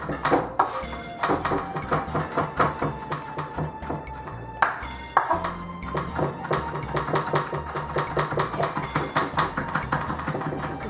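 A knife chops ingredients for a Jamaican marinade of ginger and thyme in a fast, steady rhythm of sharp taps on a cutting board, with a brief pause partway through.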